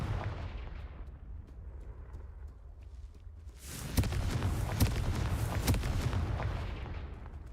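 Confringo fire spell in the Hogwarts Legacy video game, a sudden burst of blasting, crackling impacts that keeps rumbling for several seconds after a quieter start, with no talk.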